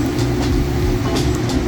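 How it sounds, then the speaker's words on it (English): A garage heater runs with a constant loud, low rumbling drone and faint irregular ticks, close by, with no one speaking over it. "sorry for the noise because my garage heater is on."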